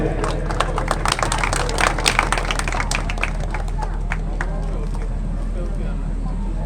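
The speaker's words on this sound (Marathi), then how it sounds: "जोरदार टाळ्या सर्वांनी वाजवायच्या आहेत." A crowd at a Datta Jayanti temple festival in a Konkan village claps hard and fast, dense overlapping claps that are loudest early and then thin out, over a steady low hum.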